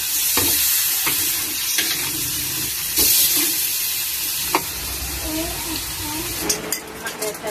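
Sambal with fish sizzles and stirs in a frying pan as a little water is added, giving a steady close hiss with scraping stir strokes and brief louder spatters.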